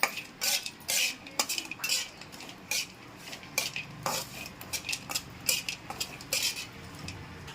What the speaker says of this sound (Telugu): ఇవి కూడా మంచి కలర్ వచ్చేంత వరకు ఫ్రై చేసుకుందాం.